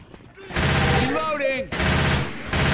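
Tier 1 weapon gunfire in Left 4 Dead 2 rattles in loud sustained automatic bursts, breaking off briefly in the middle while a voice speaks over it, then resuming.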